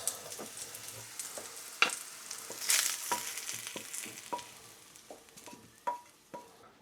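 Saffron milk cap mushrooms frying in olive oil in a pan, a soft steady sizzle broken by scattered crackles and pops, close and fairly quiet with no talk.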